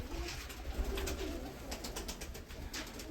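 Pigeons in a dovecote coo softly and steadily at a distance over a low background hiss.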